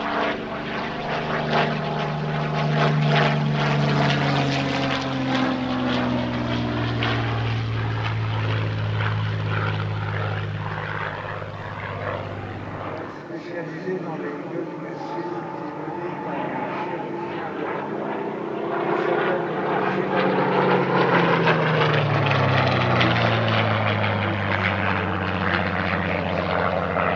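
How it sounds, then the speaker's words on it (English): A restored Spitfire warbird flies over an airshow, its piston engine droning loudly with the pitch sliding down as it passes, then rising again as it returns, no talk over it. "And what a pleasure it was to see this aeroplane in the air again."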